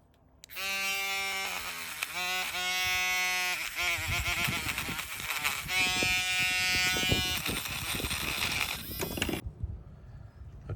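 Small rechargeable Dremel rotary tool fitted with a metal brush, working on cast pewter: loud, close high-pitched whine that starts abruptly, wavers and grinds with scratchy contact noise, then cuts off near the end.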